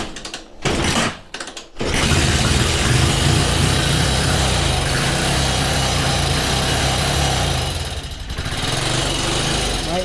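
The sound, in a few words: motorcycle engine being kick-started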